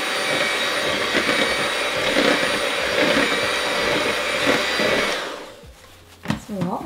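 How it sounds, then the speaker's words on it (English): Electric mixer whirring through Finnish pancake batter in a home kitchen, a loud steady motor drone for about five seconds that cuts off, followed by faint voices. "We'll just mix this really quickly before we add the sugar."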